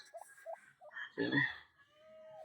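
Newly hatched turkey chicks on a small farm give faint high peeps, with a brief louder clucking burst from adult fowl in the middle, all quiet and close.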